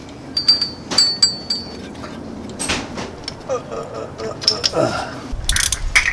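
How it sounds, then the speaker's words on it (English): A mechanic works on the belt tensioner of a 1988–1995 Toyota 4Runner with a V6 3VZE engine, producing close ratchet clicks, metallic clatter and scattered tool knocks in short irregular bursts. "Let's yank this tensioner."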